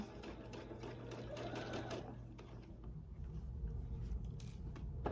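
A sewing machine stitches quilt binding in a quiet, steady whir for a couple of seconds, then gives way to lighter handling clicks and a softer motor hum.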